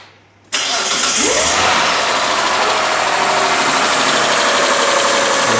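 Mitsubishi Magna V6 engine cranks briefly and then fires right after a timing belt change, catching into a loud, steady idle that runs on evenly close by, with nobody speaking.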